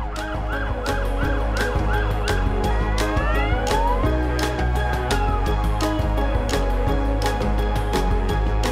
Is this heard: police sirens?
yes